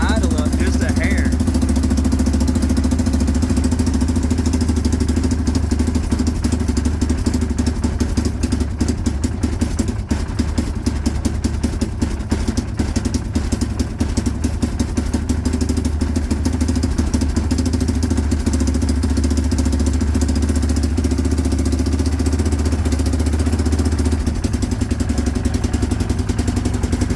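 A Yamaha Rhino engine idles steadily after a choke adjustment, a loud, close, even chugging rumble that holds unbroken throughout.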